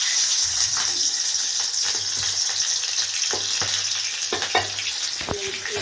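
Rui fish frying in hot oil in a kadai with nigella seeds, a dense continuous crackling sizzle up close, dotted with brief pops and light stirring clicks throughout.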